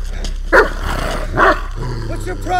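A dog on a cliffside gives two loud, close barks about a second apart, with a low growl in between and people talking in the background.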